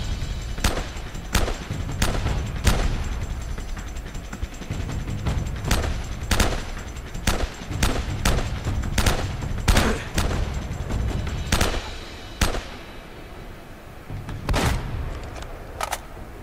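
Shotgun blasts go off in the video game Uncharted: Drake's Fortune, a string of sharp, loud, separate booming shots spaced irregularly over a steady background of battle noise.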